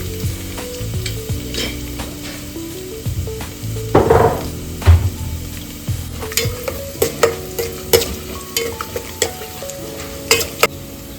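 Dried chillies, curry leaves, garlic and cashews frying in oil for capsicum rice, a close sizzle broken by repeated scraping stirs and clinks of a spoon against the pan, growing busier and more percussive toward the end.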